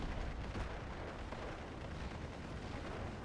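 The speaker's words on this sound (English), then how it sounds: "Artillery there is kind of killing me" Artillery fire in a war strategy video game, a steady low rumble of distant, overlapping blasts that stays faint and even throughout, with no voices.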